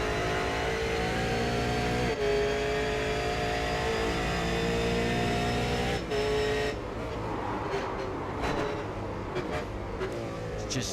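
Race cars at Oran Park circuit in a round 2 series race, engines droning loud and steady with rising and falling revs as the pack passes, a sharp drop in engine note near the end as cars pull away.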